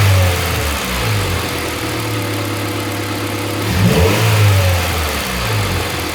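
A Honda Civic's B16A2 engine idles steadily, then is revved up to higher RPM and settles back down. It is loud and close, with no talking.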